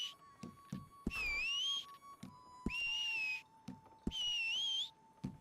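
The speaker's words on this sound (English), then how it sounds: "And I can choose a whistle." Three rising, wavering whistle tones from character whistle selection in the video game Red Dead Redemption 2, each lasting under a second and separated by soft menu clicks and a steady faint background tone.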